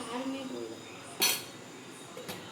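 A Kolli hills mushroom fry in a pan stirred with chilli and coriander powders: a soft background hiss, one clear metallic scrape of the spoon and a fainter clink after it.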